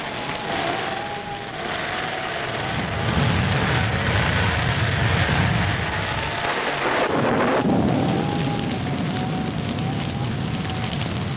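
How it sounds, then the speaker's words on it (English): Steady roar of a storm, dense broadband rumble like heavy rain and wind with a deep low swell, loud and continuous throughout with no voices. "we'd better get out of here before this storm gets any worse"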